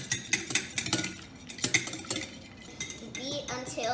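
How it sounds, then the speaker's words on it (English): Royal icing is whisked hard and fast by hand in a bowl, producing rapid rhythmic clinks and scrapes of the whisk against the bowl, close and uneven in loudness. "I will now start whisking. You have to whisk really, really hard and for a long time"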